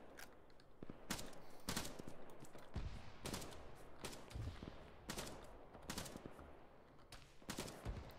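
Repeated bursts of gunfire in ArmA 3 during a Falklands campaign operation, sharp shots cracking out in clusters every second or so, loud and steady across the clip with no talk.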